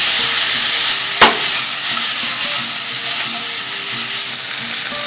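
Onions and garlic sizzle steadily in a hot pan, a dense continuous frying hiss with one brief clink or stir near the start and no voices.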